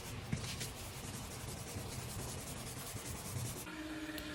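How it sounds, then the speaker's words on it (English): Slow, steady scraping across a painted surface during a move-out deep clean, a continuous faint rasp with a few small knocks, heard alone without talk. "So I have to scrape it to remove. Scrape it slowly so that you don't remove the paint."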